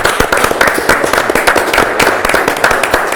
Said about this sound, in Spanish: lo despedimos con un aplauso a Juan Carlos